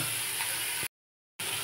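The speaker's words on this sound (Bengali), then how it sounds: "এবার পেঁয়াজটা ভালো করে ভেজে নিই," Onions frying in a pan make a quiet, steady sizzling hiss, broken by a short silent gap before it resumes. There is no talk.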